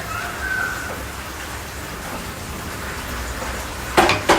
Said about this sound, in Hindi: बारिश स्टार्ट हो गई है बहुत तेज़ वाली यार।